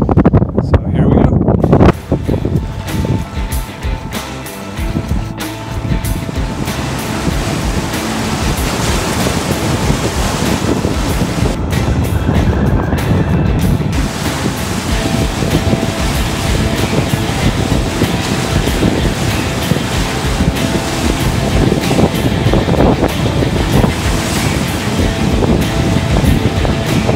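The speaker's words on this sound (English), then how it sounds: "Final rapid, so we are done with the whitewater" A raft runs the whitewater rapids of Cataract Canyon in Utah. A continuous, loud roar of rushing water fills the whole stretch, mixed with heavy wind buffeting on the microphone.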